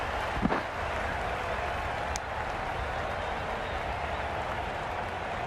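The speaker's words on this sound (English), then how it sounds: "The crowd are really getting quite raucous." Broad, sustained roar of a stadium crowd cheering and applauding in the video game Cricket 22, Australia vs England, steady throughout with a brief sharper burst near the start.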